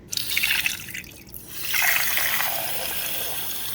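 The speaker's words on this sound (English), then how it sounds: "I'm just going to fill it up with water." Tap water pours and splashes into a pot holding eggs, a bright rushing stream in two bursts with a short gap between, close and fairly loud, no voices.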